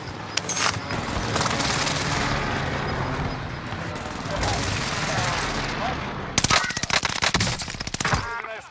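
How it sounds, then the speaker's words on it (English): An airstrike in the Warzone video game unleashes a sustained roar of explosions and rumbling blasts, then a rapid burst of loud crackling gunfire near the end, dense and close with no voice over it. "Here comes the airstrike."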